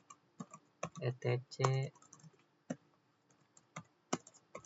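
Keys clatter as a command is typed on a computer keyboard in a Linux networking lab, clicks arriving in short bursts with pauses between them while someone speaks over part of the typing.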